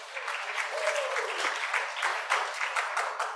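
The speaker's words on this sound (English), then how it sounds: "Clap for yourself." A workshop audience claps together in a moderate burst of applause that continues throughout, with no speech over it.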